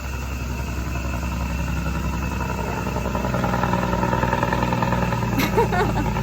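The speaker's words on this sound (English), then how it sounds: "The loud truck." A loud truck drives past outdoors in Costa Rica, its deep engine rumble holding steady and swelling slightly louder partway through, with no one talking over it.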